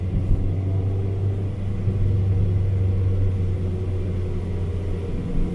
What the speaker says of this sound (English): from the inside of the vehicle, the exhaust is really not too much